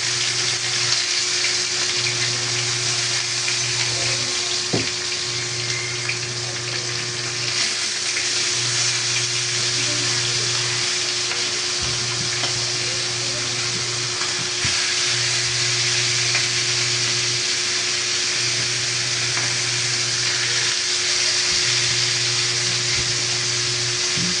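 Steady sizzling of freshly caught fish frying in hot oil, with a faint low hum pulsing in the background and no voices.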